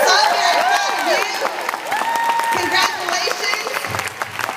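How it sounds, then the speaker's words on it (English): Applause and cheering from a large crowd at a career conference, sustained clapping with whoops and excited voices rising over it, loud and close. "would you please stand up and take your #1 applause?"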